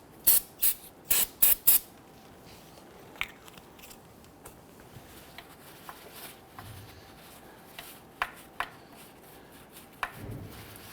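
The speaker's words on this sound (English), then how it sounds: "Gonna give that a quick spray with some spray solvent" Several short, sharp bursts of solvent spray from an aerosol can, cleaning rusty sanding debris on a 2006-2010 Hummer H3, hiss in quick succession, followed by scattered clicks and faint handling noises.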